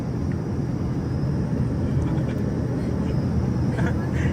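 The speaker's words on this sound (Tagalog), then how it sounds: "Yung pag-akyat ng eroplano" A passenger airplane climbing after takeoff, heard from aboard, gives a loud, steady, broadband engine roar with a deep rumble that holds without a break throughout.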